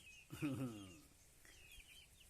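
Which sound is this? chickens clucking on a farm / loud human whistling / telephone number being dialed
chickens clucking on a farm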